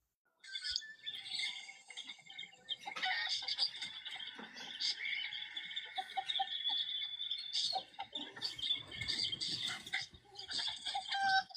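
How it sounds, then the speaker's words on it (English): Chickens in a backyard cluck and chirp in busy overlapping bursts, a continuous medium-close chatter of fowl calls with no talking. "So these are his chickens."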